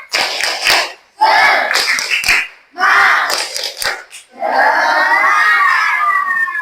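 Groups of schoolchildren in a classroom shout and clap a rhythmic spirit-clap chant in bursts, then break into a sustained loud cheer, close and energetic.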